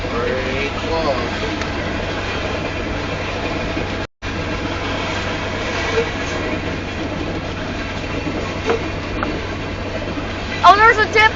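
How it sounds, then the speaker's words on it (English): Southbound Union Pacific coal train passing south of Elkhart, Iowa, a steady loud rumble and rolling rail noise throughout, with faint wheel squeals near the end and people talking over it. "I cannot believe how close we were to missing this train"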